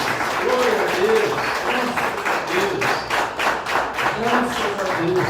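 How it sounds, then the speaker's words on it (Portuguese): A church congregation applauds during worship, broad sustained clapping filling the room while a voice carries over it, people speaking and calling out through the applause. "Pode aplaudir, glorificar."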